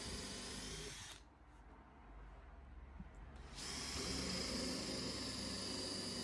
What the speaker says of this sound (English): So I'm just countersinking there, pilot countersinking.